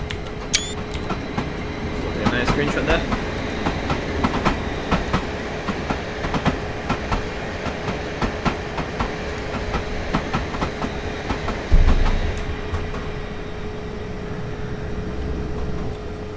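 A train pulls slowly out of Clapham Junction in Train Simulator 2018 on the Portsmouth Direct Line, with a steady rumbling drone, rhythmic wheel clicks over the rail joints and a brief louder clunk near the end.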